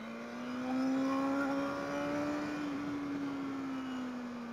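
A BMW motorcycle engine at an RR Fest event revs steadily as the throttle is opened, a sustained droning tone that swells slightly and holds for several seconds, fairly close and loud with no talk over it.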